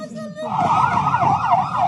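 An ambulance siren wailing loud and close in a war-hit area where wounded are being collected, a rising, warbling electronic tone cycling rapidly for the whole stretch.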